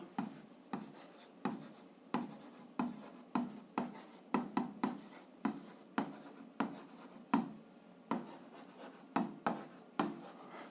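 A pen writing a physics formula on paper, with a rapid series of close scratchy strokes and short taps in an irregular rhythm, quiet and with no one talking.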